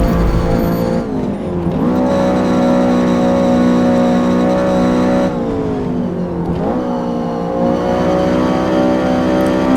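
Lotus race car engine in Forza Motorsport, a loud, steady high-pitched engine whine with two sharp dips and climbs as the car lifts off and accelerates again through corners, no talk.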